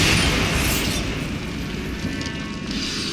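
A Bombarda spell explodes in Hogwarts Legacy with a loud booming blast that fades into a rumbling rush of debris, close and alone without voices.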